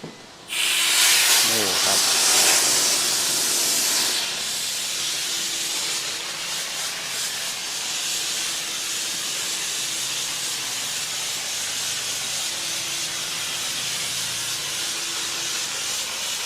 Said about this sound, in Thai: ฉีดโฟมเข้าไปสีขาวๆเห็นไหมครับ